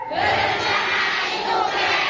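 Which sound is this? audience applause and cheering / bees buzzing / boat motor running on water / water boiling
audience applause and cheering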